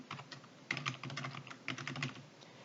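Quick, light keystrokes on a computer keyboard while entering cell text in Excel, uneven bursts of clicks close to the microphone in a quiet room.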